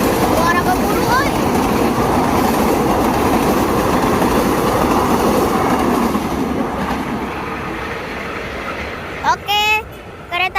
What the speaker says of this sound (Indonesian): ini kereta KRL kan?